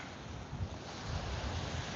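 Atlantic Ocean surf rumbles steadily, with waves washing in under a layer of wind noise as a storm brews offshore; a constant, distant roar with no voices.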